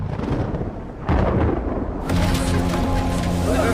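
A storm breaks over a cafe with loud, rolling thunder and broad rumbling, surging sharply twice and then holding a heavy, steady roar, with no voices.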